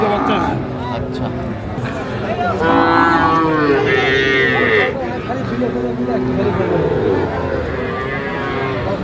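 Cattle at a Khulna livestock market lowing in loud drawn-out moos, one long call in the middle and others around it, over constant bargaining chatter of a crowd.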